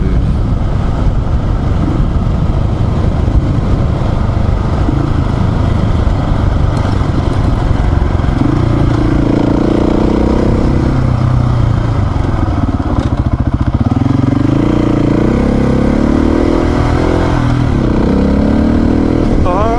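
A vehicle drives on a gravel road during a long off-road trip, with a loud, continuous engine drone and tyre rumble and a shifting engine pitch partway through.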